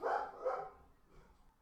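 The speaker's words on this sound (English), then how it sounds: "the dogs are barking" A dog barks twice in quick succession, then the sound fades into quiet room tone; the barks are faint and a little distant.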